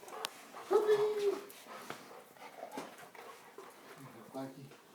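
Four puppies whimper, yip and give small barks close by, with high whines rising and falling over a few seconds, while a person's voice is also audible.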